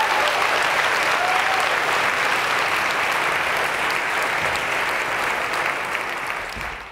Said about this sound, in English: Now you can give them a round of applause.